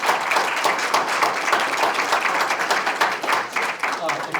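A crowd at a candidates forum for district attorney applauds steadily and loudly, with dense, sustained clapping for several seconds and no talk over it.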